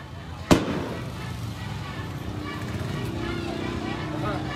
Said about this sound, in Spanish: Chulada de fuegos artificiales en honor hoy a Santiago Apóstol.